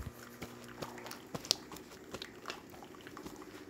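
Hot water runs from a Jura Impressa S9 coffee machine during a tune-up test, a steady close stream with light bubbling and a few soft clicks.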